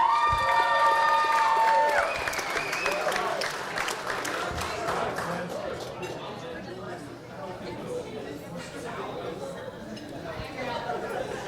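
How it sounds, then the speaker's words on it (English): Wedding guests applaud and cheer for the maid of honor, with whoops and whistles over the clapping at the start, then a dense round of applause mixed with crowd chatter that fades down and swells again. "If you please give Kelly a big round of applause."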